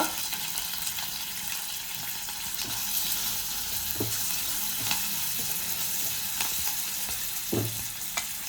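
Ginger, curry leaves and green chilies fry in hot oil with a continuous, fairly loud sizzle. Occasional pops and light scrapes stand out against the steady hiss, recorded close by with no voices.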